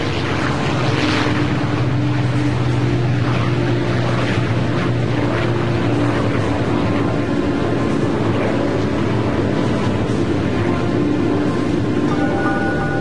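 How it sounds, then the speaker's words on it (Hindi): A B-29 Superfortress bomber takes off, a loud, continuous propeller-engine drone with a steady low throb and wind-like rush throughout. "B-29 super fortress box car ने उड़ान भरी।"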